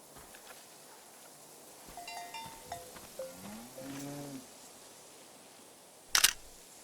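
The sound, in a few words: cow mooing in the video game Season: A Letter to the Future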